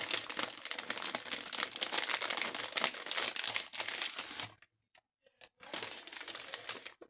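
A paper letter envelope being torn open and handled, giving dense crinkling and tearing rustles that run for several seconds, break off into a short near-silence, then resume with more paper crumpling.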